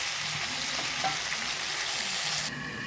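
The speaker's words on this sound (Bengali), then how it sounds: "ঢাকনাটা খুলে একটু নেড়ে নিচ্ছি যাতে পুড়ে না যায়" Rohu and catla fish fry in a pan with cauliflower and potato while being stirred, a continuous close sizzle with light scraping, the hiss easing slightly near the end.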